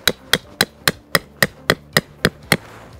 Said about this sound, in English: I've got to bring my tent peg in quite close, and I'm just going to hammer it in